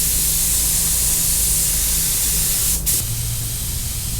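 A steady, loud hiss of a paint spray gun spraying continuously, with a brief burst and a slight change in tone near the end.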